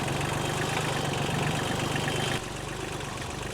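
An engine runs with a steady, throbbing low hum at an even pace, then its level drops abruptly partway through and continues more quietly.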